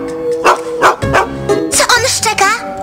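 A cartoon dog barks a few times in quick succession, close and clear, with a yipping, whining edge and no other voices.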